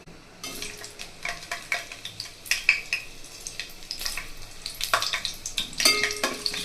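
Green chilies and bay leaf frying in oil for chicken fry, a steady sizzle under repeated scraping and stirring strokes of a spatula against the pan, close and fairly loud.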